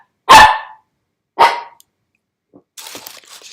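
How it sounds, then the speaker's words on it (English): A female dog barks twice indoors, sharp and close, with a pause between the barks, followed by faint shuffling sounds. "my dog's trying to attack me. Can you hear her?"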